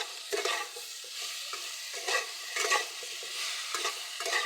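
Potatoes and tomatoes sautéing in oil with chili, turmeric and salt, a close sizzle broken by repeated scraping stirs of a utensil against the pan, with no talking.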